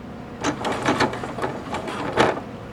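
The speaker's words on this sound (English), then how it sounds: "Lower the needle, lower the foot, sew backwards." Janome MC9900 sewing machine stitching backwards through leather, a close series of rapid mechanical needle bursts with brief pauses between them, with no talking.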